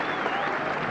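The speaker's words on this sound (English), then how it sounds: "Applause from Randall himself" Crowd applause at a 1982 England versus Pakistan Test cricket match, a steady dense patter of clapping that fills the whole brief moment at moderate distance, with no break.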